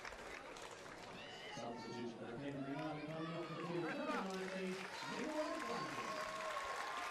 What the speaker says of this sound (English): Nikki Flannery will come off the pitch to rapturous applause from the McKellar Park crowd